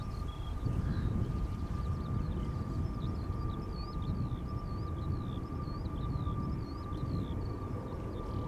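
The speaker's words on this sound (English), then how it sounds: "Delta Airlines flight 243, Airbus A330-300, 17 years old, first flight April 2007" A Delta Airlines Airbus A330-300 departs Amsterdam Schiphol, a steady distant jet roar with a thin whine held throughout and birds chirping faintly overhead.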